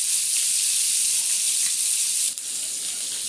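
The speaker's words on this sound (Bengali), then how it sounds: "মাছগুলো দিয়ে দিচ্ছি, কড়াইতে ভালোভাবে করে ভেজে নেব" Sea fish frying in hot oil in a kadai, giving a loud, even sizzle that holds steady throughout, with one brief dip in the hiss near the end and no talking.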